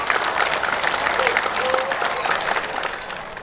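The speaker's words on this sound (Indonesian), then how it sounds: "mari kita apresiasi, tepuk tangan yang meriah kepada ananda kami" A large audience applauds a national vocational skills competition gold medalist at a welcoming ceremony, with dense, steady clapping throughout that fades slightly near the end and faint voices mixed in.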